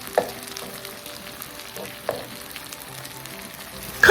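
Peppers frying in a hot pan with the skin pressed to the metal, giving a steady low sizzle with a few soft pops and stirring clatters. A sharper louder crackle comes at the end.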